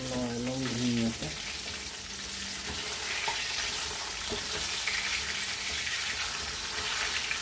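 Steady sizzling and crackling of fish frying in a pan of oil for elephant apple fish curry, loud and continuous throughout, with a brief voice at the start.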